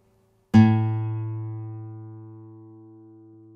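A 440 Hz A note is played after digital-to-analog conversion as a single struck tone with a sharp onset that rings on steadily and slowly decays, with audible overtones, alone in quiet.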